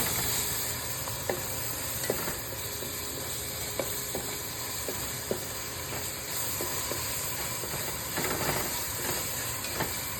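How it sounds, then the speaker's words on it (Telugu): Ginger garlic paste frying in a pan for a prawn curry, giving a steady, close sizzling hiss with faint clicks of stirring scattered throughout, no voices. "అల్లం వెల్లుల్లి పేస్ట్ వేపాలండి"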